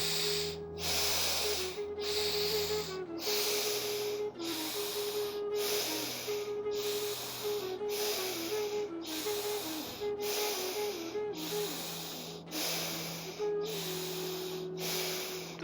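Slow yogic exhale through the left nostril during alternate nostril breathing, a steady airy hiss heard close and alone, with faint music droning underneath.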